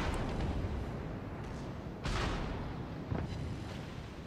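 Enemy shells slamming into the bow of the battleship Scharnhorst in World of Warships Legends: dense rumbling gameplay noise broken by a loud burst near the middle and a smaller one later.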